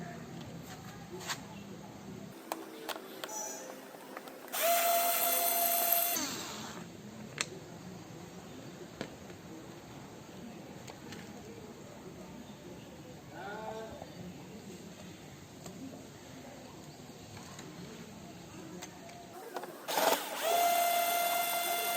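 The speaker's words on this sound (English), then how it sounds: "Turn the screwdriver anti-clockwise to remove the 4 screws" Screwdriver backing out screws from a Honda Activa scooter, faint close clicks and scraping creaks with a couple of louder whirring bursts between quieter stretches.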